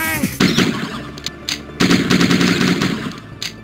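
Loud bursts of rapid automatic gunfire from the game Die Hard Trilogy in two long volleys with short gaps, punchy and close, with a synthetic, game-like quality.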